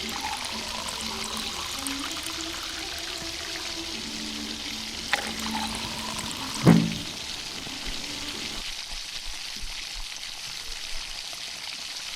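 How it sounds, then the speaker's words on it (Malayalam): Squeezed tamarind juice poured into a curry cooking on the stove, heard as a steady pour and low sizzle with a single louder splash partway through, then the sound quiets down. "പുളിയൊക്കെ പിഴിഞ്ഞൊഴിച്ചു കേട്ടോ"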